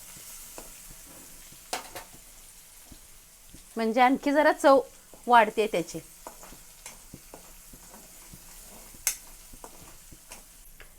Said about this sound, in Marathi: मी एक दोन हिरव्या मिरच्या लसूण फोडणी देऊन टाकायला लागलेली आहे त्यात